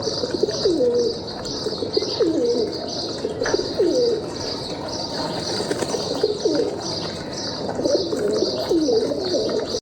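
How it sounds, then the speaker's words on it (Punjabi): Pigeons coo repeatedly nearby, soft rolling calls coming every second or so over a steady background hum and faint chirps. "ਵਧੀਆ ਵਧੀਆ ਕਬੂਤਰ ਵੀ ਰੱਖੇ ਆ"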